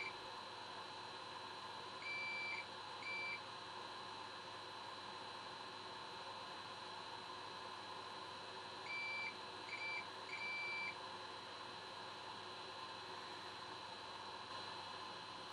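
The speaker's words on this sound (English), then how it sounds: "Another fundamental step in our repairs process is to measure the components, looking for a short circuit." Multimeter continuity beeps while the probes check a water-damaged Xiaomi phone motherboard for shorts, two short clusters of thin electronic tones over a steady background hum.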